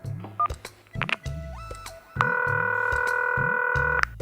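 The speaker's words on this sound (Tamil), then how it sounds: "சுந்தரிட்ட ஃபோன் போட்டு சொல்லிடுவோம்" A phone number is keyed in: a run of separate touch-tone beeps, followed by a long, steady dialing tone, clear and close, with no talking.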